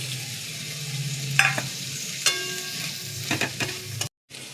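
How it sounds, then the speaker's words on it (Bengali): Tomatoes stirred as they fry in melted fish oil, a steady close sizzle broken by several scraping spoon strokes against the pan before a brief silence at the end. "টমেটো দিয়ে 2 মিনিট নাড়াচাড়া করে নিচ্ছি।"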